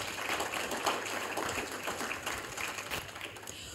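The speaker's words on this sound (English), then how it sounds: "A huge round of applause for Taylor." An audience applauds for Taylor at an ocean champion award presentation, with steady, dense clapping that holds at a moderate, slightly distant level throughout.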